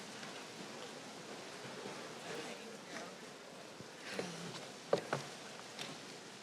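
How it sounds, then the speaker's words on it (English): Steady rain falls outdoors during Harvard University's presidential inauguration ceremony, a soft, even hiss of patter with a few faint bumps and knocks from the crowd, fairly quiet throughout. "I know why it's raining."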